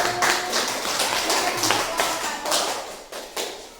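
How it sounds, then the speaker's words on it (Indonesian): Students clap in a school classroom after a group presentation, a loose scattering of individual claps with uneven rhythm and a few louder separate hits, fairly close and unaccompanied by talk. "Oke, tepuk tangan untuk kelompok 1."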